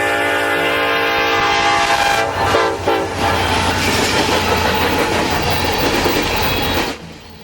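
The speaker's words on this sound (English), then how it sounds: "we would find a coal train, C703" Coal train C703 led by two orange BNSF locomotives rolls past loud and close, horn blaring with sustained tones over the rumble and clatter of wheels and cars, then easing off near the end.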